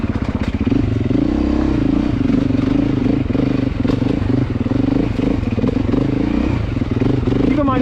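A Beta demo dirt bike being ridden at a demo day gives a loud, close, continuous engine drone that holds steady with a little rattle and clatter throughout.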